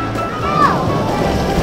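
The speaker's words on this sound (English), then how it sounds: "Dumped down by the water bucket." Water pours and crashes down from a dumping bucket at a water park, a loud continuous rush of splashing water close by, with a voice faintly under it.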